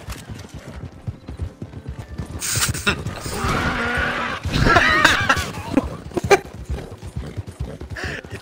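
Horse hoofbeats from a galloping horse in the video game Red Dead Redemption 2, a steady clip-clop rhythm with a louder burst of impact noise midway, heard close with no talking.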